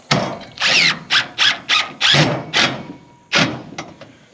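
A power drill fastens boards onto purlins or 2x4s on a solar panel mounting frame, firing in about nine short, loud, close bursts of whirring and squealing, spaced by brief pauses, with no talking.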